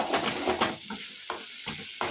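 Ginger sizzles as it is sautéed in a pan, a soft frying hiss with a few sharp stirring clicks, close and fairly quiet, with no talking.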